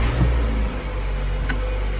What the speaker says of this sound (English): So now the vehicle starts.